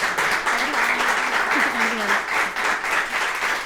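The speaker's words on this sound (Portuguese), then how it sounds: "Um aplauso para a Madalena." An audience applauds a guest on a breakfast talk show with dense, sustained clapping. A few voices cheer and call out beneath it.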